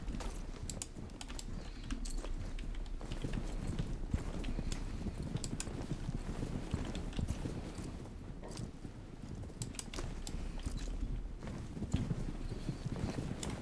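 Steady clip-clop of horse hooves trotting in a video game, a continuous rhythmic clatter at moderate volume with a soft ambient background.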